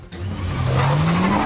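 A cartoon cat car's engine revs up in a rising whine and speeds away, loud and close, alone with no talk.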